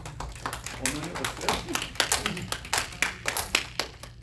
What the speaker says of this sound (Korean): 우리 어머니들한테 박수 한번 보냅시다